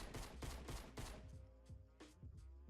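Rapid bursts of gunfire in Fortnite Battle Royale crack out in quick succession, then thin into a few scattered, spaced shots, loud and close with no talking.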